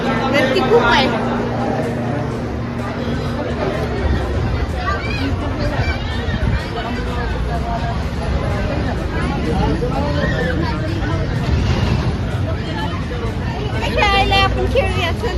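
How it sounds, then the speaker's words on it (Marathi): A busy restaurant packed with people waiting to eat fills with dense, continuous hubbub of overlapping voices, chatter and clatter all around, close and loud, with individual speakers now and then rising above the babble. "गर्दी खूप आहे."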